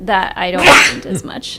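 One sharp, breathy sneeze bursts out, close and loud, in the middle of a person's casual talk.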